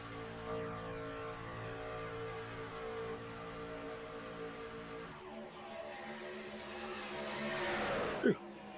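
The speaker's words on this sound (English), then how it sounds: "Love the rumble of those trucks." Deep, steady rumble of NASCAR truck engines racing at Daytona International Speedway, droning continuously, shifting pitch partway through and rising toward the end with a brief sharp burst.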